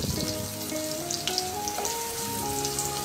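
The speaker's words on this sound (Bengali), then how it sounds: "আমি এখন তেলের মধ্যে শুটকিগুলো, পেঁয়াজ আর শুটকিটা ভেজে নিচ্ছি।" Dried fish (shutki) and onion fry in oil with a soft, continuous crackle, heard quietly and close up, while a faint melodic tune plays in the background.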